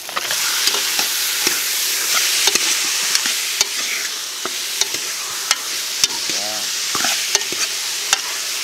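Tomatoes and meat sauté for Ilonggo pochero, a steady loud sizzle in the pan broken by frequent sharp clicks and scrapes of a utensil stirring, with no talk.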